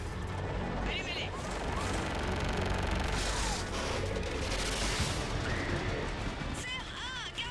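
Air support guns firing on a ground target in Mass Effect 3, heard as a dense, continuous roar of heavy fire and explosions. A radio voice speaks over it throughout.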